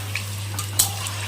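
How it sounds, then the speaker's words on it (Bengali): Paneer frying in a pan for palak paneer, a soft sizzle under a steady low hum, broken by a few clinks of a utensil against the pan. "এদিকে পনিরটা ভাজা হচ্ছে"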